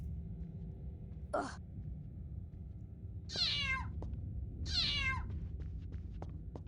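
Two clear meows from a cat in a Harry Potter video game, each a drawn-out falling cry, come after a brief soft thump over a low, steady game ambience.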